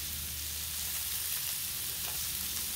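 Pierogis, kielbasa and cabbage fry on a Blackstone griddle, giving a steady, close sizzle that holds evenly at moderate level throughout, with no talking.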